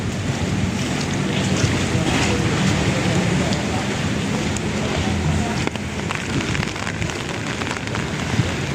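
Typhoon-strength wind roars along the Pasig River esplanade in the Philippines, a loud, continuous rushing blast with gusty buffeting and no let-up across the whole stretch.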